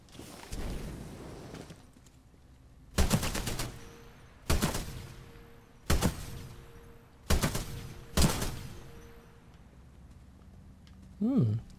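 A Spitfire light machine gun fires in Titanfall 2 in five short, loud bursts spaced a second or two apart, with quiet gaps between them and a faint electronic chirp at the end.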